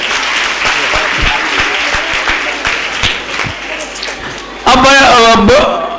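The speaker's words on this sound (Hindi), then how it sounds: "इसलिए तालियां बजा दीजिए।" A crowd at a school awards ceremony claps steadily for several seconds, close and loud, before an announcer's amplified voice cuts in over the last of the applause.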